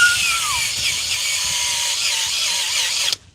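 Electric drill spinning a wire cleaning attachment against a frozen, rusty wheel hub on a BMW during brake work, a steady close high-pitched whirring grind that holds evenly for about three seconds before cutting off abruptly.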